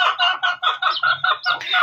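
Chickens cluck loudly and close up in a quick, regular run of short bursts.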